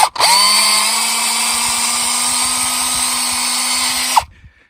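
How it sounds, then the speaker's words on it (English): A power drill bores a tap hole into a maple tree, running as one steady, loud whine for about four seconds before stopping abruptly. "When you drill into the tree, you want to kind of drill uphill a little bit so the sap will run downhill."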